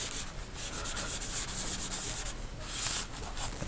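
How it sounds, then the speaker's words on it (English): Cloth or brush rubbing pooled glycerin off the surface of a covered bridge painting, a steady soft scrubbing hiss with brief strokes throughout, close and fairly quiet, no voices. "You just take it, wipe it away. Matter of fact, I'll just rub some of this."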